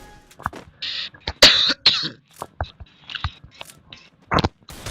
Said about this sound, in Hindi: बहुत खांसी हुई है मेरा